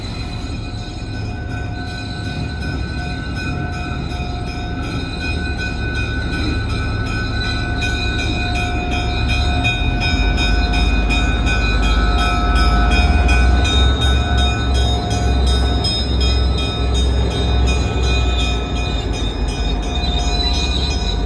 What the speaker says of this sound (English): Next up is the Nebraska Zephyr behind CB&Q E5 number 9911